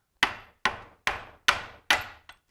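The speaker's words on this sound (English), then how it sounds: "I've got an old washer that's about the right diameter and a big deep well socket impact, and all I want to do is tap this out the back side here" A washer and deep well socket are hammered against a Ford Ranger 2.8 V6 front crankshaft seal: five sharp metallic taps at an even, steady rhythm, each with a short ringing decay, ending with a lighter sixth tap.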